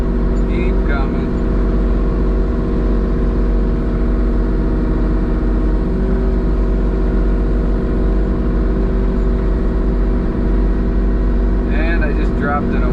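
A 12-inch wood chipper runs beside a Kubota mini excavator in a land-clearing job, giving a continuous, dense engine and machinery drone at steady volume throughout, with a few brief faint voices near the start and end.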